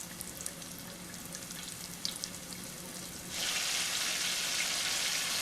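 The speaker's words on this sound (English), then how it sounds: "there it has a good sizzle now" Beef for Mongolian beef sizzles steadily in a hot pan, the hiss growing louder and brighter partway through, with no voices.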